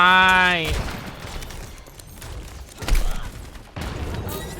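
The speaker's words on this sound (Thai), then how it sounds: "โยนระเบิดไป" A grenade is thrown and explodes in a multiplayer action video game, with a loud thump and burst of gunfire-like crashes amid the game's noise after a short tonal chime at the start.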